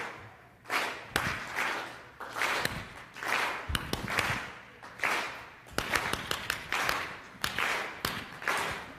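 Keynote audience clapping in a shifting rhythm, loud sharp claps in uneven clusters and quick runs rather than a steady beat, ringing briefly in a large hall.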